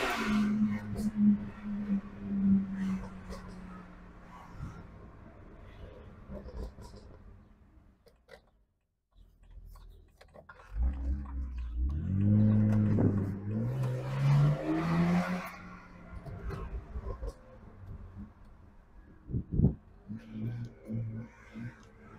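A tuned BMW with an N52 engine drives and accelerates, its engine note rising and falling through revs, heard from inside the car with some talking over it and a quiet lull midway.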